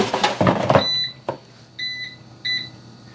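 An air fryer being set for 375 degrees and 10 minutes gives short, clear electronic beeps: a button chirp, then two pairs of high tones, after a moment of rustling handling noise at the start.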